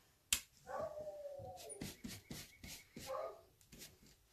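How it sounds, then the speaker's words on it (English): A dog barks a few times in the background of a home, muffled and fairly faint, with a sharp click near the start. "My dog is barking in the background."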